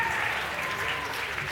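A crowd at a girls high school basketball game between Clarke and Locust Valley cheers and applauds in a dense, continuous roar, with a commentator talking over it.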